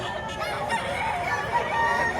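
A bullstag chicken at a poultry market in Padre Garcia, Batangas, clucking and calling amid a busy, continuous crowd of other fowl and market noise, with no clear voices standing out.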